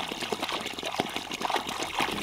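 Water trickling and splashing as it is drawn up from a 25-metre-deep family well, a steady wet dribble with small gushes throughout, fairly close and moderately loud.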